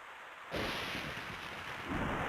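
Thunder from lightning in the video game Tactics Ogre: The Knight of Lodis crashes in suddenly and rolls on as a loud, sustained rumble with rain-like hiss, with no talking over it.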